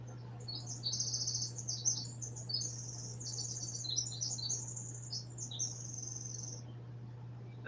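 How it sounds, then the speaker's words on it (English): Small songbird sings overhead in a run of high, quick chirping phrases over a steady low hum, fairly faint and with no talking. "there's a beautiful bird singing above me"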